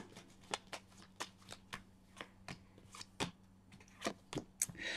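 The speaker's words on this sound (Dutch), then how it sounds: "Ik zal de kaarten schudden om te kijken wat week 46 voor jou gaat brengen." Tarot cards being shuffled by hand in a quiet room: a steady run of crisp riffling snaps, about two per second, close and soft, with no talking.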